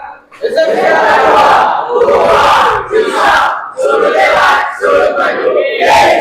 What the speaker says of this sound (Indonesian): Kita tutup dengan yel-yel SMK 2, ya.